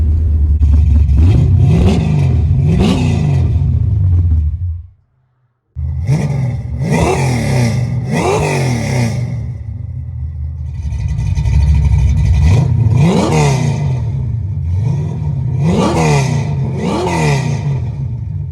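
A Camaro engine fed by a Holley carburetor runs and revs hard up close, with repeated loud rising revs, a brief cut-out near the middle, then more surging revs.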